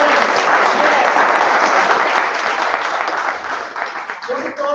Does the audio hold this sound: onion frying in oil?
no